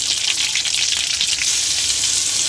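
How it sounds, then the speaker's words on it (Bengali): Onions frying in a little hot oil with carom seeds and nigella seeds make a loud, dense, continuous sizzle, close and steady, with light stirring scrapes and no voices. "পেঁয়াজটা ভালো করে ভাজা করে নেব"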